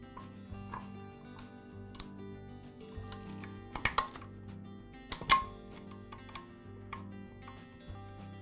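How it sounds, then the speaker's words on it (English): Screws holding the ignition coil on a Troy-Bilt leaf blower are loosened, producing faint metallic clicks and ticks spread out, with a couple of louder clinks in the middle, all close and quiet with no talking. "Then I'll loosen the ignition coil mounting screws"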